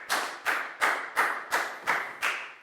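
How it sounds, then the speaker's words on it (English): A Year 4 science class claps for a classmate in slow, synchronized unison, seven sharp group claps spaced evenly about a third of a second apart, each with a short ringing decay in the classroom. "Big round of applause for Net, please"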